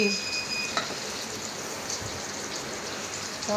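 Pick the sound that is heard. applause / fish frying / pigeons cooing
fish frying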